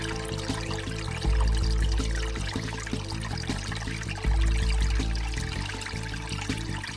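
Water trickling slowly along the Bisse du Trient irrigation channel in the Swiss mountains at the end of September, a low, steady gurgling flow close by with soft irregular drips and splashes.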